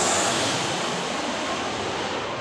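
An easyJet airliner taxiing toward the runway, a broad steady engine roar and rush that stays loud and close and fades slightly, no voices.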